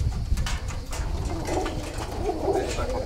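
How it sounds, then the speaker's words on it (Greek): Pigeons and doves coo softly and steadily through a rural outdoor scene in Pieria, their calls blending with low background rumble and faint noise, with no voices heard. "Κάτσε να τραβήξουμε τα πουλάκια με τη ευκαιρία."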